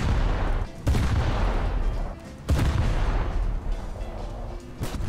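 Tank cannon fire in the War Thunder video game, with heavy booming shots near 1, 2.5 and 4.9 seconds over a dense, loud rumble of battle.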